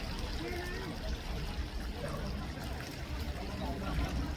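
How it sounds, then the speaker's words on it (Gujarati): A water fountain at a Hare Krishna temple splashes and pours steadily, a dense continuous rush close by, with speech-like murmur mixed under it. "કેટલું મસ્ત ફાઉન્ટેન બનાવ્યું છે."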